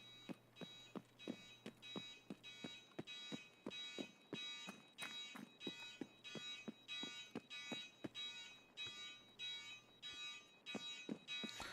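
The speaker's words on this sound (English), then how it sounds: "Let's switch this alarm off" An alarm sounds inside a firearms store during a PvE raid in a video game, repeating rapid rhythmic beeping bursts steadily throughout at a low, even level with no one speaking.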